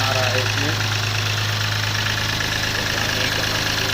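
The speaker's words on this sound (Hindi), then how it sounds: "ये मेरे गाड़ी का इंजन है।" The engine of a Mahindra Bolero idles steadily with a constant low hum and a faint metallic rattle running through it, recorded up close.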